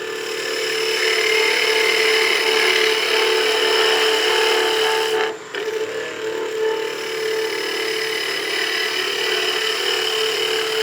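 A skew chisel cutting wood on a lathe, a loud continuous whirring hiss with a steady tonal hum that briefly drops and shifts midway as the tool lifts and re-engages, then runs on evenly.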